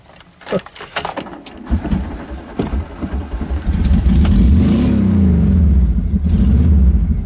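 A VW T25 high-top campervan with a noisy exhaust, freshly started and on the choke, jangles with keys and clicks before its engine catches and settles into a loud, grumbling rumble up close.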